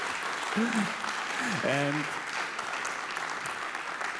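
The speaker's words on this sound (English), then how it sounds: "let's have a generous round of applause" An audience claps for the speaker at the end of a technical presentation about building a software library. The applause is steady and moderately loud, with a brief spoken word and some voice over the early part before it tapers slightly.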